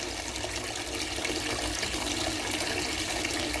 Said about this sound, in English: I'm going to go ahead and let just some warm water in there